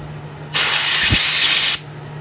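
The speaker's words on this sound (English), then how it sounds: "Again, some compressed air." Compressed air blasts through a disassembled carburetor, the bowl removed, in one loud steady hiss of a little over a second that starts and stops abruptly over a low background hum.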